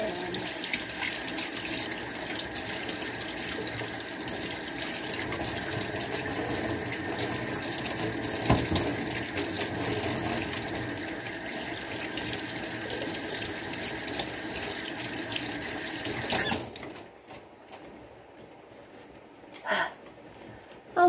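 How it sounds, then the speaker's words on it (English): Kitchen tap running steadily into a sink while hands are washed during cooking, a constant rushing splash lasting most of the clip before it shuts off, leaving quiet room tone with a faint knock. "always important to wash your hands while you're cooking"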